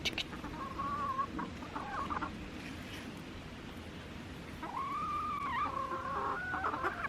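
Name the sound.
chickens clucking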